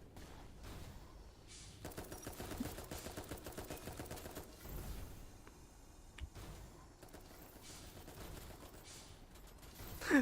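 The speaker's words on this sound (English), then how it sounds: "Those missiles are very aggressive." Missiles fire in rapid, rattling bursts during a boss fight in the mech game Dolls Nest, volleys of clattering shots rising and falling over about ten seconds with no talking.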